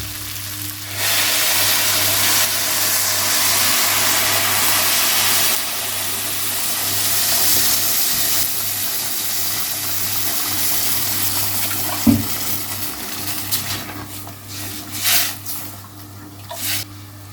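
Water poured into a cooking pot while preparing Egyptian koshary, a steady broadband rush lasting over ten seconds with a low hum of the kitchen underneath and a few small knocks near the end.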